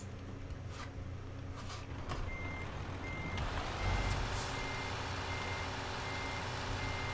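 Repeated electronic reversing beeps from a truck in Euro Truck Simulator 2, a steady beeping under a constant low diesel engine drone and road rumble, with air-brake hiss nearby.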